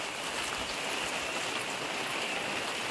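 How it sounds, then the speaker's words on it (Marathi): Heavy monsoon rain pours steadily in a Konkan village near the Rameshwar temple in Kurang, making a dense, unbroken hiss of drops on surfaces that holds the same level from start to finish, with no voices. "आणि आज खरं तर पावसाची धमालच आहे, म्हणजे कधी ऊन कधी पाऊस असं पडतंय."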